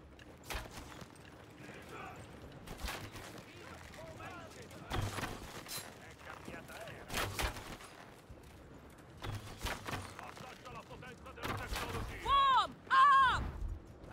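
Musket volleys crack out in a Conqueror's Blade siege battle, sharp bursts scattered through the clip and clustering loudly near the end, mixed with shouted commands, clattering combat and the thud of hooves.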